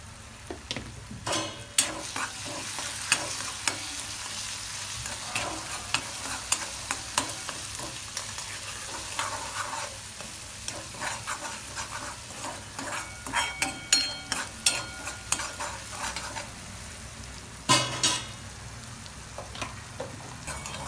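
Spices frying in oil for a cluster bean curry, a continuous close sizzle broken by sharp spatula scrapes and clatters against the pan, no talking.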